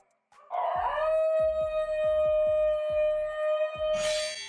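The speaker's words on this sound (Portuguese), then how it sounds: "Quando abrem a boca, tendem a emitir um som que lembra um ronronar ou até um yodelei." A Basenji dog gives a loud, sustained yodeling howl close by, a steady warbling tone held for several seconds over a series of soft, low rhythmic thumps, with no speech.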